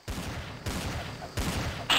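Gunfire in the multiplayer shooter Trouble in Terrorist Town: three loud bursts of shots spaced about two-thirds of a second apart, each trailing off, with a sharp crack at the very end.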